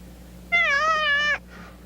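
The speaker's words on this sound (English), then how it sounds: "Cat. Scared me." A black cat gives a single loud, drawn-out meow, close and clear over a faint steady hum, with nothing else around it.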